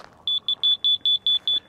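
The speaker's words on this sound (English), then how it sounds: "if it's right on, right on, it's a solid beep." A concrete grade level receiver gives a solid beep at a building site, a run of about eight short, evenly spaced high electronic tones that sound close and clear.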